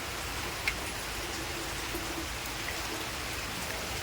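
Steady rain hisses evenly throughout, a soft continuous wash with no voices.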